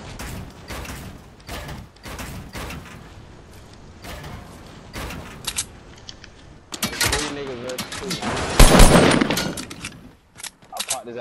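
Fortnite gunfire crackles in scattered bursts, with a denser, louder volley near the end, mixed with game effects and someone talking over it.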